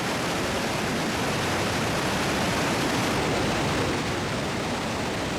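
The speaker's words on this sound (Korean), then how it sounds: "동쪽에서 흘러오는 몽모랑시 강이 세인트 로렌스 강으로 흘러들면서 폭포가 생긴다." A steady, full roar of falling water from Montmorency Falls near Quebec City, where the Montmorency River drops into the St. Lawrence, fills the whole stretch, unbroken and loud, with no voices.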